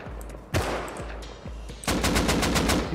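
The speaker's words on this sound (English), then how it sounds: "Are you getting shot at?" Gunfire in the Rust video game during a player-versus-player fight: three loud separate shots about half a second apart, then a rapid sustained burst of automatic fire, close and punchy, with no talking.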